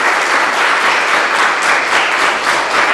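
A studio audience applauds a young Hungarian folk dance ensemble from Luna on a Romanian television set, a loud, dense and steady wash of clapping with no voices over it.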